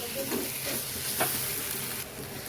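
A ridge gourd curry sizzles steadily in a pan while a spoon stirs it, with a low continuous frying hiss and a brief scrape midway.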